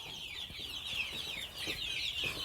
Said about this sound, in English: This is just a fraction of the chickens that are found on this farm.